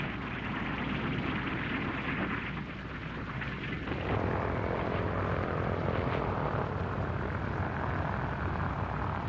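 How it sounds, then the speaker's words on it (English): B-17 Air Force drone aircraft landing, a steady, loud droning propeller-engine roar with broadband rush that swells slightly midway and continues without pause. "B-17 Air Force drones land at Inuiatok."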